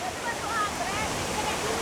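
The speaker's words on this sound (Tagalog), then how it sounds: "Nandito kasi tayo sa pinaka mismong falls." Steady roar of a waterfall made of many small cascades tumbling over large boulders, constant and close, with a voice faintly under the rushing water.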